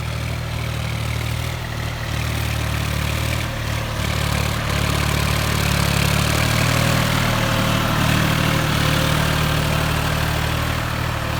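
A New Holland T3.55 tractor's three-cylinder engine runs steadily at close range, a continuous low throbbing drone that holds even throughout without voices.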